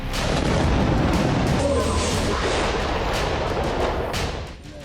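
Continuous heavy rumbling booms from an airstrike bombing in the Akkar area of northern Lebanon, a dense, loud roar that holds steady for several seconds before easing off at the end.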